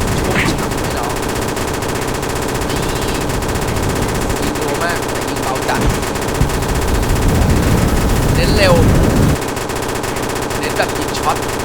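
An M249 machine gun fires long rapid bursts in a bathroom-themed video game battle, loud rattling gunfire that runs almost without pause, with a player talking over it.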